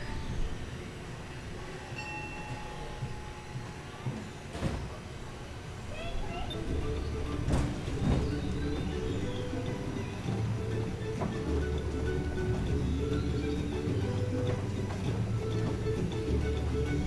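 A guided tram rolls through Jurong Bird Park, its steady rumble and rattle rising as it gets moving, with a couple of knocks and an amplified announcer speaking over the ride noise.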